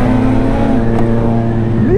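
Honda CB1000 motorcycle engine under hard acceleration, a loud, steady roar with the pitch climbing and shifting near the end, heard up close with no talking.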